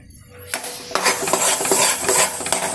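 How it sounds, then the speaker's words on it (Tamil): Moong dal and wheat flour stirred in a pan for a sweet dish, a spoon scraping and clinking against the metal in steady close strokes after a quiet start, no talk. "பாசிப்பருப்பும் கோதுமை மாவும் நல்லா மிக்ஸ் ஆகி வரட்டும்."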